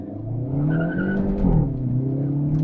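A 2024 Hyundai Elantra N, a front-wheel-drive sedan, accelerates hard with engine revs rising and a sustained tire squeal layered over the roar, loud and close throughout.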